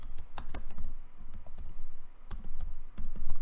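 Rapid keystrokes on a computer keyboard, close and clear, irregular clusters of clicks with brief pauses, no talking.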